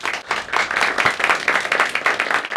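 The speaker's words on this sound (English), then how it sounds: "Applause." An audience applauds at an evening event, a dense, even patter of many hands clapping close and fairly loud for a couple of seconds.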